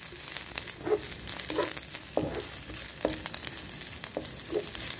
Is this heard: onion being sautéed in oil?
yes